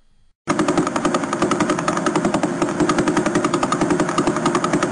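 A faster pulsar's radio signal rendered as sound, bursting in after a brief silence as a loud, rapid, buzzing rattle of pulses like machine-gun fire, sustained evenly throughout with no talking.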